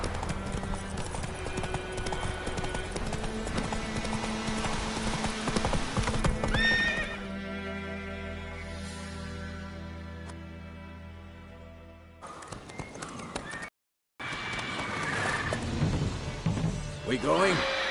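Hooves of Roach, a horse in a video game, clip-clop in a steady running rhythm with a whinny, up close and loud, with a brief gap near the end, alongside game sounds.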